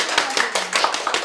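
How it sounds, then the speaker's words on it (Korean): A short burst of hand clapping at a conscientious objectors' day event in Korea, several people applauding together at close range, brisk and uneven for about a second. "박수 한번 칠까요?"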